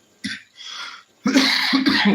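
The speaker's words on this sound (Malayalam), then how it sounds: "സോറി ചുമ പിടിച്ചോട്ടോ" A person coughs several times while cooking pineapple and coconut payasam, first a short single cough, then a breathy one, followed by a louder run of harsh coughs close to the microphone.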